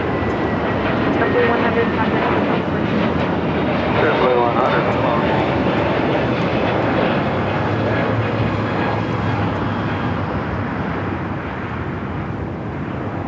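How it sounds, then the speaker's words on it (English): Alaska Airlines Boeing 737-800 taking off from LAX's south side, a loud steady jet engine roar filling the whole stretch while a person talks over it. "Alaska Airlines Flight 1348, 737-800, heading to Puerto Vallarta. Heading down for a Southside takeoff."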